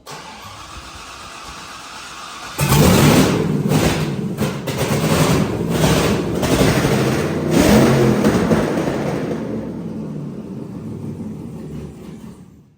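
A freshly installed 6.0 LS V8 bursts into life after a quiet start, then roars loudly close by with several sharp revs and blips before settling and fading toward the end.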